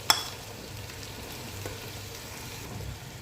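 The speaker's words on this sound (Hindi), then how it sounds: "ये मसाला जो है हमारा भुन चुका है" Masala for zafrani chicken pulao roasting in a pot, a faint steady sizzle with one sharp clink of a utensil at the start.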